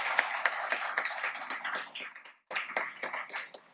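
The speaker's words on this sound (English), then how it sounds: "let's give them a round of applause" Light applause from a small audience at a city council meeting, with clusters of claps pattering unevenly. It pauses briefly midway, then resumes and continues.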